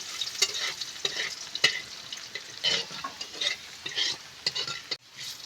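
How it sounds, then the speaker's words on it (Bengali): Onions fry in a pan for a mashed taro-leaf dish, with a spoon stirring and scraping in quick, repeated strokes over a continuous close sizzle, briefly dropping off near the end. "এবার পেঁয়াজ আমি ভালো করে ভেজে নেব"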